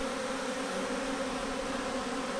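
A huge swarm of honey bees buzzes in a dense, unbroken drone, loud and close throughout.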